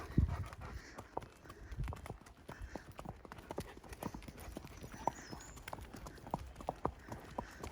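Horse hooves clip-clop along a trail in an irregular walking rhythm, fairly close, with sharp hoof strikes over low outdoor rumble and no talking.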